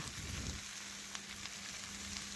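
Cumin, mustard paste, turmeric, chili powder and a bay leaf hit hot oil in a pan, giving a steady close sizzle with a brief louder burst of crackling at the start, alone and fairly soft.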